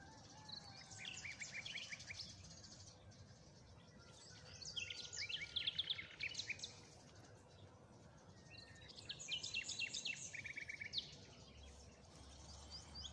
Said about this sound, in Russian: Если прислушаетесь, то услышите, как у нас тут заливаются соловьи.